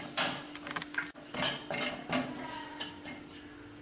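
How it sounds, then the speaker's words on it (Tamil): Vermicelli roasting in ghee in a pan gives close metallic scraping and clinking from a spoon, with busy stirring over a light sizzle for a few seconds and no speech. "இந்த நெய்லேயே நம்ம வந்து சேமியாவை வறுக்க போகிறோம்."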